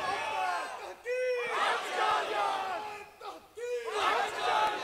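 A crowd at a religious gathering in Lahore chanting slogans in loud, rising call-and-response bursts, with two big surges of massed voices separated by a brief pause.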